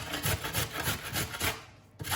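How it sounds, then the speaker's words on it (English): A carrot grated on the bigger holes of a grater, heard as quick rhythmic rasping strokes, about eight close scrapes in a steady back-and-forth pattern with a brief pause near the end. "So we're just going to grate the carrot."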